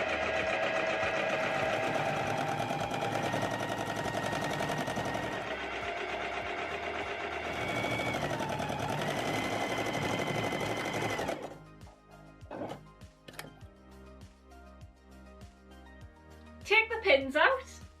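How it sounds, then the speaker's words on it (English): A sewing machine stitches the inseam of a pair of Luna pants, a steady, fast mechanical whir running for about eleven seconds before it stops, followed by a few faint clicks and light handling noises. "Head to the sewing machine and stitch the inseam together"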